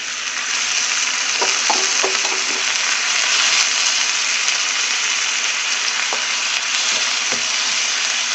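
Soaked urad dal frying in a pan gives a steady, loud broadband sizzle throughout, with a few soft scraping stirs near the start and later, and no voices.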